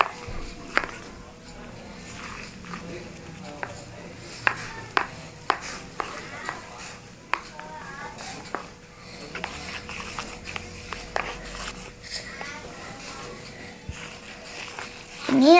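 Slime being stirred in a container, with wet, sticky clicks and squelches at an irregular pace, close up, occasional brief talk in the background.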